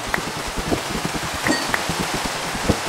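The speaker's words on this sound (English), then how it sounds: "I don't like the rain" Rain falling in the Minecraft video game, a steady soft patter with scattered drips throughout, heard alone without voices.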